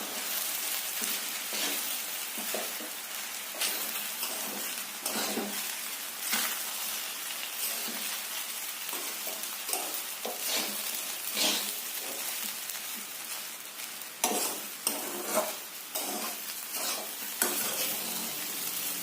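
Sabudana khichdi stirred in a frying pan, a steady soft sizzle under repeated scraping strokes of the spoon across the pan, close and continuous throughout with no talk.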